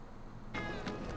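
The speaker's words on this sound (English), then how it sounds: "I think one of Betty's cats might be nearby." In the Final Fantasy VII Remake Intergrade video game, a cat meows nearby once, a short clear tonal cry breaking in over a steady low ambient background.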